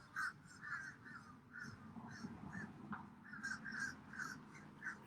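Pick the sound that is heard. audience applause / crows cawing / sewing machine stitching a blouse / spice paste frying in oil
crows cawing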